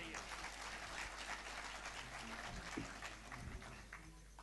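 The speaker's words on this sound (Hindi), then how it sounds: "सबसे पहले गांव के उन शहीदों के लिए जोरदार ताली बजाइए।" Steady applause from an audience at a Hindi poetry gathering, fairly faint and distant, continuing throughout without any voices standing out.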